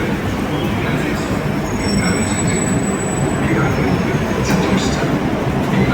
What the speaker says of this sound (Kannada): ನೋಡ್ರಿ ಇದೇ ಮೆಟ್ರೋ.